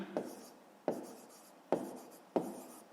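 A pen writes out a fraction in a math exercise, with four distinct scratchy strokes at steady intervals, each a sharp attack that trails off quietly, close and alone.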